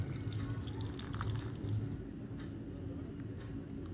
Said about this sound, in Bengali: তারপর হালকা একটু জল মিক্স করব